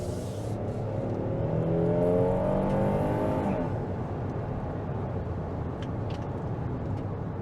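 A 2022 Kia Telluride SX Prestige SUV accelerates under throttle, its engine note climbing through a smooth rising whine before easing into a steady cabin rumble. Heard from inside, with no voices.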